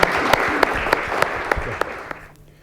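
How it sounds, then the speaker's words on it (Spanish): Audience applauding a guest at the close of a cultural talk, a dense steady clatter of clapping punctuated by a few sharp louder claps, fading out at the end. "Quiero que le demos un enorme aplauso a Jaime por haber venido."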